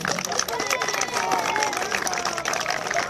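Audience applause at a football club's 80th-anniversary ceremony, steady clapping mixed with crowd chatter and voices throughout.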